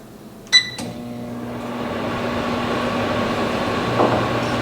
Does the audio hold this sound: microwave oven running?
yes